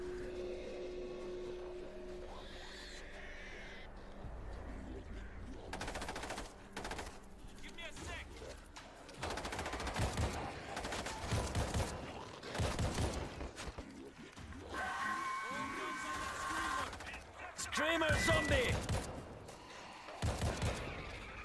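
A big gun firing in the World War Z co-op video game: bursts of heavy automatic fire recur through the scene amid game noise and shouted voices, growing louder and denser in the second half.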